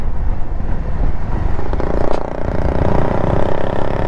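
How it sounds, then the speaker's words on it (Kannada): A Yamaha RX100 motorcycle rides past with a loud, steady engine drone that swells slightly midway, all four seconds filled with close road noise and no voices. "Yamaha RX100"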